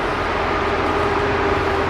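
A KRD diesel airport train at Minangkabau rumbles steadily close by, a continuous low engine drone with a faint sustained tone on top.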